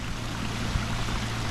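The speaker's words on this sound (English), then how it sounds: "then a higher volume of water starts tumbling down the hill" Pond aeration waterfall, with water tumbling down a hillside in a higher-volume flow: a steady, close rushing wash with no talk over it.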